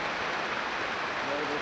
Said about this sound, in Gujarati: વરસાદ છે